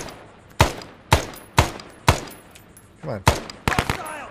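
Single gunshots ring out repeatedly in the ARMA co-op Vietnam-era mission Prairie Fire at Lang Vei, followed by a quick burst of several rounds. The shots are loud and close, with a voice speaking briefly between them.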